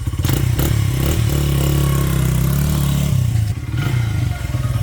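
A 2002 Honda XR80 five-speed motorcycle idles and revs nearby, a loud, steady mid-pitched engine drone with some mechanical clatter, alone with no talking.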